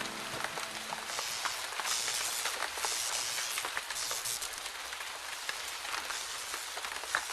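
Steady, dense rain pours down without a break, a broad hiss with scattered louder patters of drops hitting a surface, heard close and alone.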